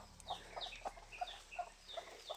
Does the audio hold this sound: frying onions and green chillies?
no